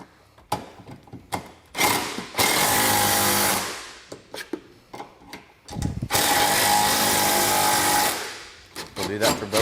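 Cage hardware on a Yamaha Wolverine RMAX 1000 side-by-side is tightened with a power tool, several whirring bursts of a second or two each separated by short pauses and clicks, fairly close.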